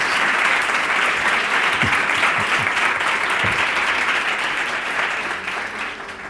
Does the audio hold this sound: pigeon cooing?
no